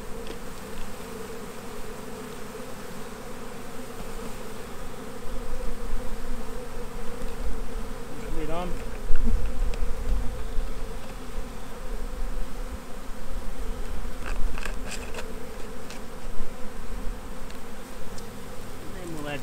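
Honey bees being shaken from a hive frame for a sugar-shake mite test, a dense, steady buzzing swarm close by that swells louder midway and holds.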